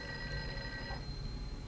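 A telephone rings in a film playing in the room, a thin electronic ring sounding over a low, muffled background hum, heard faintly and alone.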